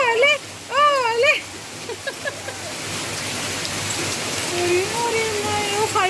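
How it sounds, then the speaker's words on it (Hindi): Hail falls in Mussoorie as a dense, steady hiss of pellets striking surfaces, continuous throughout, with a voice speaking over the start. "ये देखिए हमारे यहाँ ना ओले पड़ रहे हैं"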